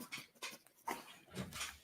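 A dog whimpers and pants in soft, quick bursts, close but quiet, with no voices over it.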